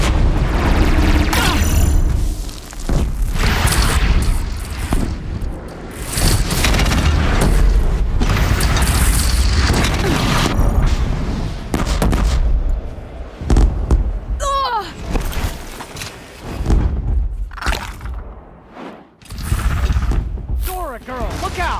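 In Horizon Zero Dawn, a Deathbringer machine fires sustained loud gunfire, with booming explosions and thuds in a dense, continuous barrage. Voices shout at moments over the din.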